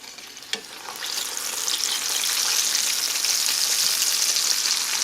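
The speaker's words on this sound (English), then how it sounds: "Ready for our double fry, and you want to take it easy." Chicken fried steak sizzling steadily in moderately hot oil during its second fry, a dense, bright crackle that starts softer with a small pop and swells to a constant, close hiss.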